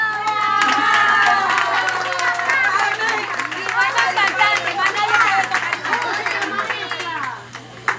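An audience at a Venezuelan singer's performance claps and cheers for her cousin, a dense run of applause with whoops and crowd chatter that tapers off toward the end.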